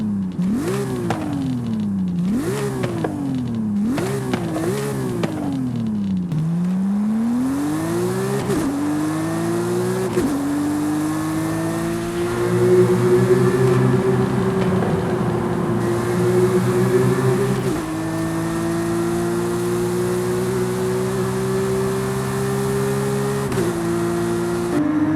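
Porsche 911 GT3 RS engine in Forza Horizon 5 revs hard through several quick climbing rises and drops, then holds long high-rpm pulls, a loud continuous racing engine wail.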